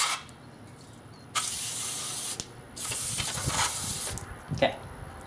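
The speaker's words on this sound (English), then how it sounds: "go ahead and get in there and spray it out really well" Cleaner sprayed from an aerosol can into a pistol frame during gun cleaning, two long close hissing bursts with a short pause between them, then a brief rattle, with no talking.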